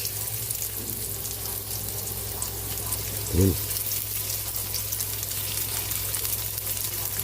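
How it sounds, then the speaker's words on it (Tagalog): Chopped onion drops into a hot pan of garlic, a steady frying hiss running throughout with one brief soft thump partway through. "Lagyan na rin natin yung ating onion, sibuyas."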